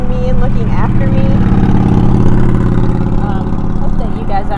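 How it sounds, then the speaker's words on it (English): Road traffic noise, with car engines idling and revving nearby, runs loud and steady throughout, partly under a voice talking. "Hope that you guys aren't hearing the loud noise from traffic."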